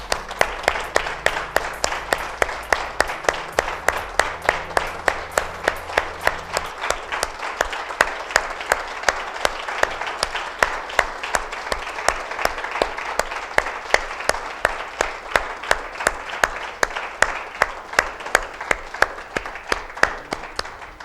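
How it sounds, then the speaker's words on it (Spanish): A church congregation claps together in sustained, steady applause, many hands beating in a dense, even rhythm that carries on without a break from start to finish, with no voices rising above it. "Dale un fuerte aplauso a nuestro Dios."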